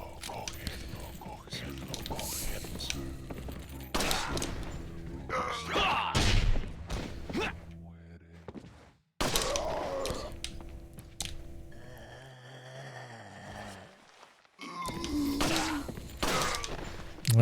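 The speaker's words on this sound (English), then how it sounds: "shooting them in the back of the leg does not produce the desired effect" Gunshots in the Resident Evil 4 video game, several sharp, loud cracks spread out between stretches of mechanical clicks, reloading sounds and game noise, with a voice speaking at times.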